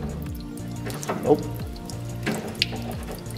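Water draining from the radiator of a Datsun 280ZX during an alloy radiator install, a steady splashing trickle with faint clanks and a brief spoken word.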